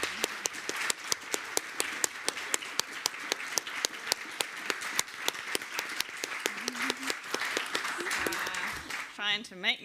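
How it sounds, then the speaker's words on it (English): Sustained round of clapping and applause from a conference audience, many hands beating in a dense steady rhythm for several seconds, fairly loud and close, with a voice starting to speak at the very end. "give the loudest round of applause"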